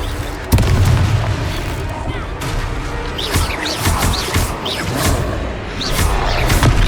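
Confringo spells in Hogwarts Legacy erupt in heavy booms and thuds during a combat sequence, with several sharp impacts and rumbling over shouted spell calls and in-game voices.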